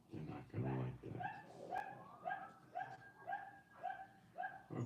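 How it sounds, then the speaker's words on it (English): Several dogs bark back and forth at a distance in a series of evenly spaced, moderately loud barks and yips, with a brief stretch of human voice near the start. "some dogs barking back"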